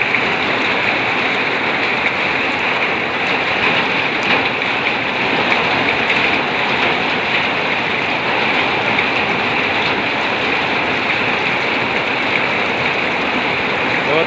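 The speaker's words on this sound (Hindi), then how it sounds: "बहुत शानदार बारिश हो रही है।" Heavy rain pours steadily over a village in Rajasthan, a dense, continuous hiss of water on the ground and trees, loud and unbroken throughout with no voices.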